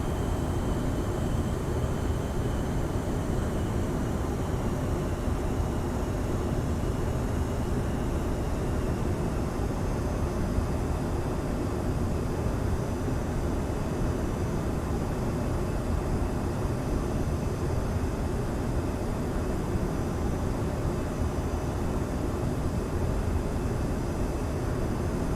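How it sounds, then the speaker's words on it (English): A TWA-liveried McDonnell Douglas MD-80 in Microsoft Flight Simulator, using an aftermarket sound pack, gives a steady, dense jet-engine roar on approach that holds evenly loud and unbroken with no talk. "Really like the sounds of this plane? Yep, the sound pack is excellent."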